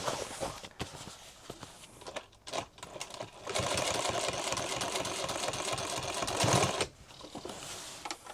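A sewing machine stitches a duffle bag in short bursts, then runs in one longer steady whir before stopping, with light handling noises around it.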